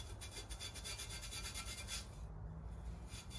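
Fine-grit sandpaper rubs rhythmically over an epoxy-coated tumbler, a close, steady scratchy rasp of repeated strokes with a brief pause near the end.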